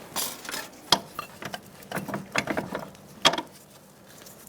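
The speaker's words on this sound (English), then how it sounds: "And now I'm going to get my bolt started through." Metal clinks and scrapes come in irregular bursts as a bolt is worked through the strut mount of a 2002-2006 Toyota Camry front strut, close and fairly quiet, with a few sharper knocks.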